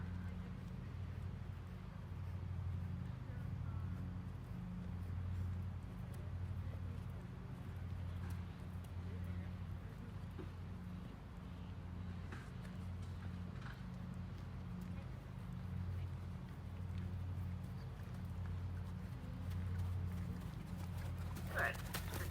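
Horse cantering in an indoor arena during a riding clinic, working canter half pass along the rail; steady rhythmic hoofbeats carry through the whole stretch with a faint background hum and no voice over them.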